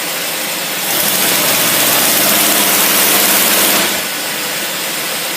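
Carburetted engine revving hard under load on a dynamometer, a loud steady roar that swells in from a lower idle, holds for about three seconds, then drops back to a rough idle.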